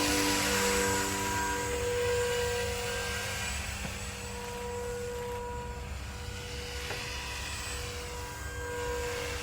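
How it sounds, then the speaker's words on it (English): A Walkera Dragonfly V500D01 six-channel RC helicopter flies outdoors, its steady whining rotor and motor drone holding loud and continuous throughout, with no voices. "Just take it easy, get more of a feel for this helicopter."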